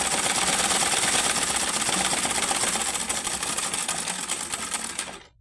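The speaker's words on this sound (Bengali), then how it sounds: "এখন আমি হাতা সেলাই করব।" A sewing machine stitching the sleeve of a fatua, a fast, even mechanical rattle running loud and close, then slowing and stopping at the end, with no voices.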